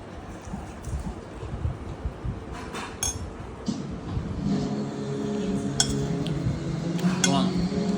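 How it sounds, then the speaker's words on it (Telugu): Utensils scrape and clink against a dish while food is mixed by hand, giving light irregular clatter at close range over a low background hum. "మంచి కలుపుతాను."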